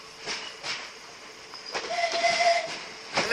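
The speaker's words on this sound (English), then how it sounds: "We have a tone and a depot whistle on this one." Train depot whistle at Deal level crossing in Kent, a sustained hissing tone sounding over distant rail rumble and crossing noise, moderately loud and outdoors.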